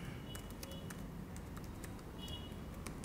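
Rapid, irregular clicking of keys as code is typed on a computer keyboard, close and fairly quiet over a low background hum, with no talking.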